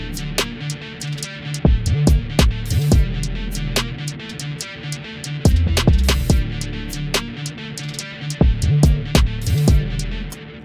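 Full drill beat playing back loud and continuous, with sliding 808 bass and kicks, crisp rapid hi-hats and snares, and distorted melodic layers running through in a steady looping groove.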